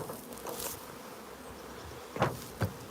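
Honey bees buzzing around an open hive during a four-frame nuc transfer outdoors, a faint, steady hum with a few louder close passes near the end.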